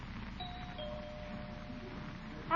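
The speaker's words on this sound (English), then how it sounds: "Guess she didn't hear the bell." A doorbell chimes once in an old radio comedy scene, a soft sustained tone fading slowly over a quiet room background, with a faint second tone just before the end.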